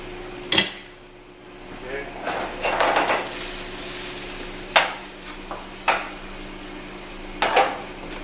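Cannellini beans tipped into a pot of greens on the stove, with soft thuds, spoon clinks and scraping over a faint sizzle, the cook talking throughout.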